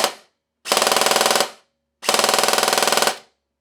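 A G&G airsoft gun with a newly installed motor fires two rapid full-auto bursts, each about a second long and separated by a brief pause. A single short click comes first, and the rattling bursts are loud and close.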